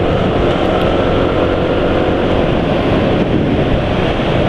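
Heavy wind buffeting while riding a Honda ADV 160 scooter on the road at speed, a loud, unbroken roar of rushing air that stays steady throughout with no voices.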